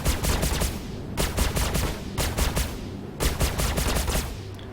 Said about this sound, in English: So, let's see which weapons are actually firing.